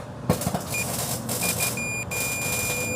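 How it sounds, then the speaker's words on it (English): A 1956 Chevy's warning buzzer gives short, thin, repeated beeps in a quiet garage-like space, irregularly spaced over a soft background hum. "we want to hear this thing beep."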